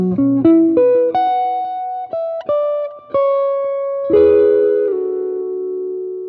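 Guitar melodic line climbing step by step into descending contracting chords, plucked notes rising then sustained chord strums ringing out, close and loud with no voices.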